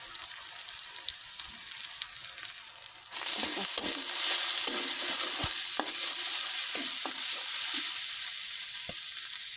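Spices sautéing in a pan with salt, ginger paste, turmeric and chili powder, first a soft sizzle, then a louder crackling fry from about three seconds on, with scattered scraping stirs and no voices.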